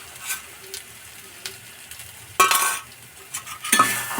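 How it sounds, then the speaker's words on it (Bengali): Drumstick flowers and egg being stir-fried in a pan, with a soft steady sizzle broken by a few sharp scraping strokes of a utensil against the metal, near and moderately loud, no voices. "এই যে ভালো করে নেড়ে চেড়ে ভেজে নেব"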